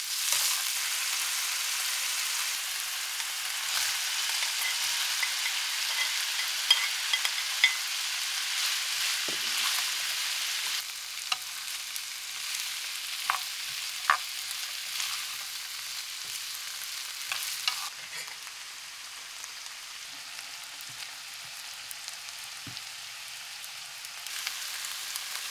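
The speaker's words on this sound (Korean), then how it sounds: "고기는 예열한 뒤에 넣고 겉면이 노릇하게 바싹 볶아야" Meat stir-frying in a preheated pan for jajangmyeon, giving a steady, bright sizzle throughout with occasional stirring scrapes and no voices.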